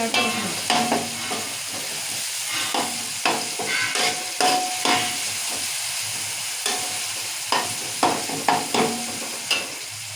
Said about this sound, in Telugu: టొమాటోలు కూడా మంచిగా మగ్గాలి మగ్గాలి టమాటాలు కూడా మంచిగా మగిలాయి